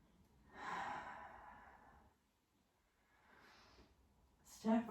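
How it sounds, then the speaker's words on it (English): Slow, audible breaths during yoga practice, a long soft exhale followed by quieter airflow and a short sharper intake, close and faint with a brief voice at the end. "Breathe here."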